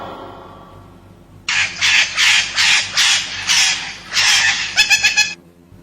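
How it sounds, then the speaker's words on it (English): A parrot gives a run of about eight loud, harsh squawks in quick succession, each burst short and ragged, ending in a faster chattering flurry, with no talk over it. "P for parrot."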